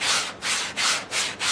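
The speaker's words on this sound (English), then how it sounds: "Just using the sanding sponge here to get the" Sanding sponge rubbed back and forth over drilled holes in metal to deburr them, five rhythmic abrasive strokes, close and steady, with no voices.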